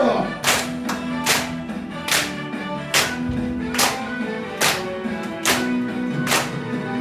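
Hands clap in steady, evenly spaced beats along with a sung Korean tune at a dementia-prevention exercise class, roughly eight sharp claps standing out over the music.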